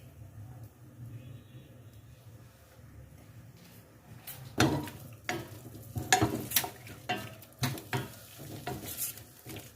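Garlic and ginger paste, a heaped spoonful pounded by hand, sizzles in a pan for a mutton curry with cauliflower and cabbage, with soft frying hiss broken by several sharp stirring and spoon scrapes in the second half.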